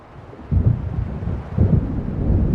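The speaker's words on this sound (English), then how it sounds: "It seems there's a storm coming." Low rumbling thunder of an approaching storm in Alan Wake Remastered, two deep rolling swells building over a steady windy background, with no voices.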